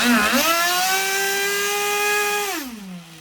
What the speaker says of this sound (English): the reason I'm revving it all the way up is because I don't want any sand sitting in the crankcase